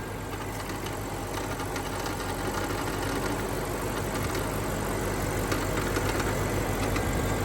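A BMW X5 4.8i V8 idles steadily at close range, a constant, even engine hum with a faint mechanical ticking and no talking.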